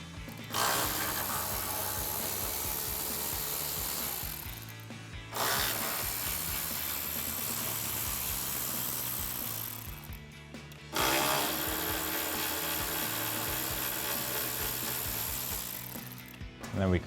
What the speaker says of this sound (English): We have 3 bolts here that we can take a T30 Torx bit to remove.